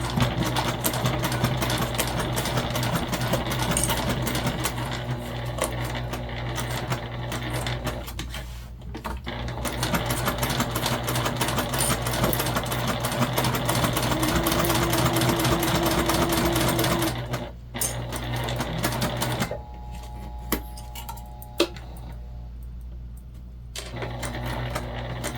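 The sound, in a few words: sewing machine stitching slowly over zippers of a pouch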